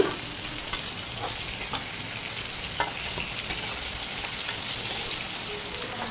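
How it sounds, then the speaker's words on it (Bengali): Bitter gourd and potatoes fry in oil with a continuous close crackling sizzle. Scattered pops and light stirring ticks sound through it. "উচ্ছে আলুগুলোকেও একটু লালচে করে ভেজে নিতে হবে"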